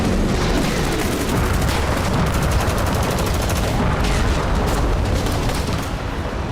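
War in Ukraine: continuous barrage of rapid gunfire and blasts, loud and dense, with rattling bursts and booms running throughout without pause.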